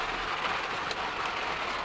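Hail pelting a vehicle on a drive through Glacier Park, Montana, a steady dense clatter and hiss of ice striking the surface throughout, with no talk.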